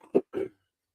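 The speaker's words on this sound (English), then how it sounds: "I apologize for coughing on air." Two short, harsh bursts of coughing in quick succession, close and fairly loud, followed by silence.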